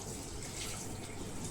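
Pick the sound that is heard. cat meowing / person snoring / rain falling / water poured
water poured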